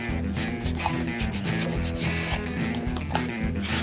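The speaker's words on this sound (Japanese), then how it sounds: "これぐらいは削ると、やすりを当てるってことなんですね" Close, continuous rubbing and rasping of a file or sandpaper worked along the edge of a small leather accessory, dense and steady with no pauses.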